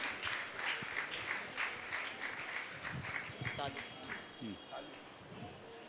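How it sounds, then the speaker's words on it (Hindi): A crowd at a Jain religious discourse claps steadily in a dense, sustained round of applause, heard from a distance with some faint voices mixed in. "जोरदार ताली बजाकर इनका सम्मान करें।"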